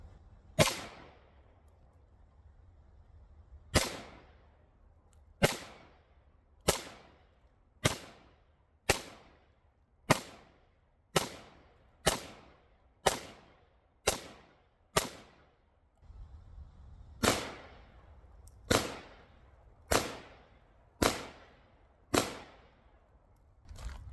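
Pistol shots from a PSA Rock 5.7 at an outdoor shooting range, about twenty sharp cracks fired one at a time at a steady pace, loud and close, each with a short decaying tail and no talk.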